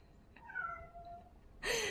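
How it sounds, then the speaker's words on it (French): A pet cat, just in from outdoors after running, lets out a drawn-out meow close to the microphone, then a louder, sharper sound right after. "Désolée, c'est mon chat."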